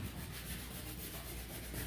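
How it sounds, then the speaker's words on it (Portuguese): Steady back-and-forth sanding strokes rasp across a refrigerator's hard surface, close up and even in rhythm. "Aqui ele está lixando."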